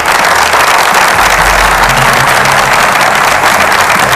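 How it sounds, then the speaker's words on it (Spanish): Steady, dense audience applause fills a presidential debate studio, loud and continuous throughout with a low hum underneath. "A todos ellos, pido a la audiencia que está acá un aplauso."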